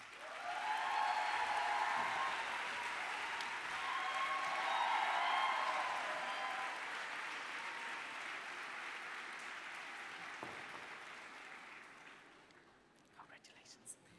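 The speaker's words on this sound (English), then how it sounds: "Let us give a strong applause to our first graduate, Joshua Pomeroy Ahern" At a graduation ceremony, the crowd applauds the first graduate called to the stage, a broad, fairly distant wash of clapping and cheering that swells, then slowly fades, with faint voices and a few stray claps at the end.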